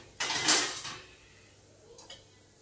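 A cooking pot of dry potato curry on a home gas stove is set aside and covered, giving a loud metallic clatter and scrape followed by a fainter clink of the lid a moment later.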